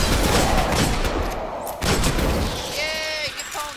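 Rapid pistol fire in the shooter game Destiny, a burst of close, sharp shots and booms that fades into lighter gunfire and game effects, with a voice talking over part of it.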